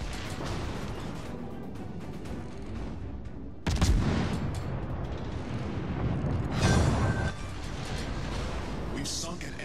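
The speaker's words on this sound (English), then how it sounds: "Requesting fire on the designated target." Naval guns fire in the World of Warships: Legends video game as two heavy, booming salvos over a constant rumbling battle din, with a voice heard faintly in the mix.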